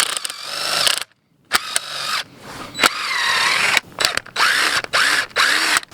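Loud power drill boring a tap hole into a maple tree in short bursts, motor whining and pitching up and down with brief pauses between runs.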